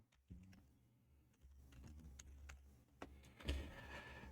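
Quiet typing on a computer keyboard during a live virtual pub quiz, with scattered soft key clicks and taps at irregular intervals over a low background hum.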